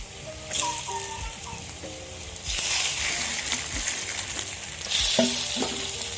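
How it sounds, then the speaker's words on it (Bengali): Rohu fish roe fries loudly in a pan with a bright, constant sizzle, while a spatula stirs and scrapes through it in repeated strokes; faint bird or chicken calls drift in from the background. "এবার ডিমগুলো এর ভিতরে দিয়ে নিতে হবে"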